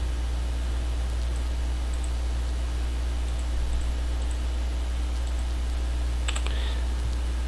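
Someone types a password on a computer keyboard while working in Ubuntu MATE, producing faint, scattered key clicks over a constant low electrical hum, with no talk.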